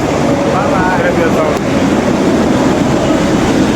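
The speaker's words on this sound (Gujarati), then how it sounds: "પહોંચી ગયા છે રેલવે સ્ટેશન" A train rumbles loudly and continuously at Kalupur railway station, a dense mechanical roar with faint clattering, close by and unbroken throughout.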